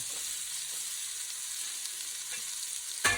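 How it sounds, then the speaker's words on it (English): Onions and garlic sizzle steadily in a hot pan, a close, bright hiss that continues throughout, with a clatter near the end. "Let's start with the onions and the garlic right into this piping hot pan"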